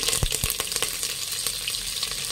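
Curry leaves hiss and sizzle loudly in hot oil with mustard seeds for a sambar, a steady close frying roar broken by a few sharp pops and crackles at the start.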